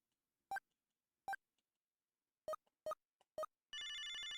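A video phone in the game Snatcher rings while a call is placed: five short electronic ring tones at uneven intervals, then a sustained buzzy dial or connection tone, clear against silence.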